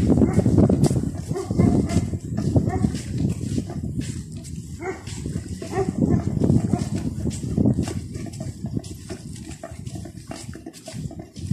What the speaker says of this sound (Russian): Ой, собачка. Собачка злая. Там собачка.